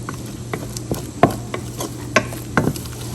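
Chicken shashlik sizzles softly in a pan while a spoon stirs and scrapes through it, giving a handful of sharp clinks and scrapes over a steady low fry.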